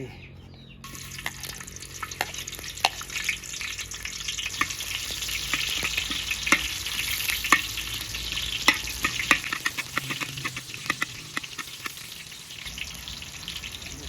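Hot oil frying steadily in a pan, crackling and spitting with many sharp pops over a continuous hiss, moderately loud and close.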